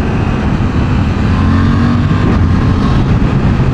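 A Suzuki GSX-8S with a 776cc parallel-twin engine rides at night, its engine giving a steady, loud drone with low harmonic bands and constant road and wind rush, no one talking.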